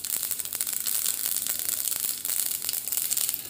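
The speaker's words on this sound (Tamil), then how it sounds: "எண்ணெய் நல்லா காஞ்சிருச்சு, கடுகு ஆட் பண்ணிக்கிறேன்" Mustard seeds spattering and popping in hot oil while tempering for a bottle gourd dumpling dish, a dense continuous crackle of many small sharp pops throughout, close and fairly loud, with no voice.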